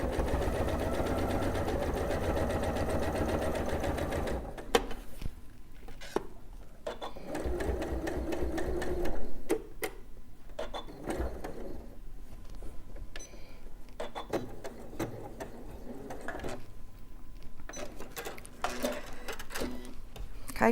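A sewing machine stitching fabric, a steady close whirring run at first, then stop-start bursts mixed with clicks and handling noises, with occasional quiet talk.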